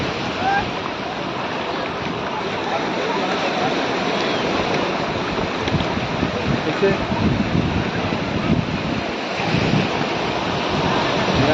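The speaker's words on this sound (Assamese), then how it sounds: "এয়া আহিছে ঢৌ আৰু এটা ঢৌ আহিব" Ocean waves break and wash on Juhu Beach in Mumbai, a steady broad roar with wind buffeting the microphone and faint voices in the background.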